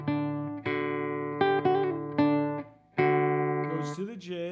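Guitar figure from a song's introduction with 16th note pull-offs to open D, a handful of bright plucked notes ringing close and alone in uneven bursts, ending with a wavering bent tone.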